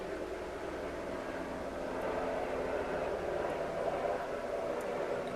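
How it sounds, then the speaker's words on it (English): A low-flying jet aircraft roars steadily overhead as a broad, rushing drone that swells slightly louder toward the end, heard from a distance without nearby talk. "Looks like we got a low flying jet coming around my area."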